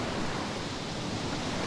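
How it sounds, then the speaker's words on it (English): Ocean waves in the video game DayZ form a steady, broad wash of surf noise, constant and fairly loud with no talking. "Do you hear the ocean by any chance?"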